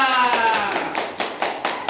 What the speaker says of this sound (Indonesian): kita beri tepuk tangan yang meriah untuk kelompok 3